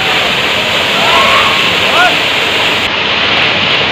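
A loud, steady roar of rushing water from the Kapildhara waterfall on the Narmada River at Amarkantak, continuous throughout without pause.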